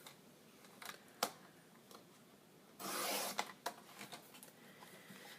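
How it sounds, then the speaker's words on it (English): Pink paper is trimmed to remove the manufacturer strip, heard as quiet scattered clicks and scrapes followed by one short, brisk rasping cut, close and alone. "So first what I'm going to do is trim off the manufacturer strip."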